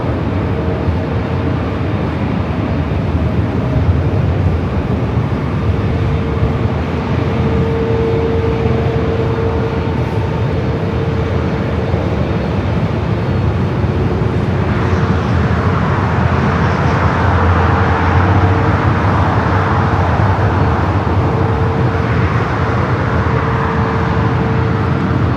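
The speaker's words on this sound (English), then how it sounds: "United Dreamliner taking off there on the south" A United Boeing Dreamliner heavy jet departs from the south side at LAX, a loud, steady broadband engine roar that swells and brightens midway through, heard from a distance with constant airport rumble and no speech.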